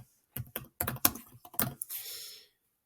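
A short burst of keystrokes on a computer keyboard while a Google Keep note is typed, close and crisp in quick irregular clusters, ending with a brief rustle before silence.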